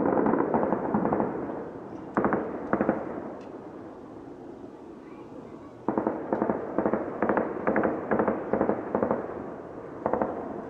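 Bursts of gunfire crack out in rapid volleys during an armed clash between police and PKK militants, clusters of sharp reports separated by brief pauses, moderately distant and echoing.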